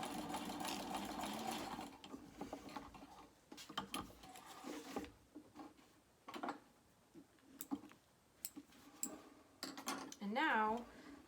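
A sewing machine stitches back over a strap connector on a small crossbody bag, giving a fast mechanical whir in short runs broken by clicks, handling noises and pauses, recorded close up.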